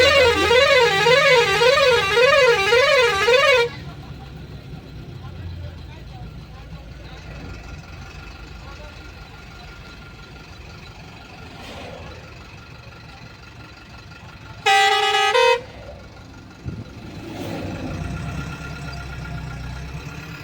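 A vehicle travels along a road, opening with a loud warbling musical horn. Steady engine and road rumble follows, then one short, loud horn blast comes later.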